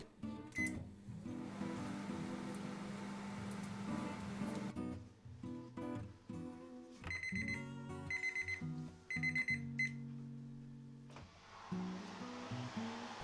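A kitchen timer alarm goes off while treacle pudding bakes, ringing a repeating melodic run of electronic beeping tones in bursts with short gaps, fairly clear and alone.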